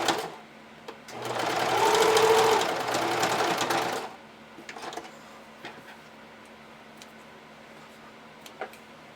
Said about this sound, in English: I'm going to stitch it along this straight edge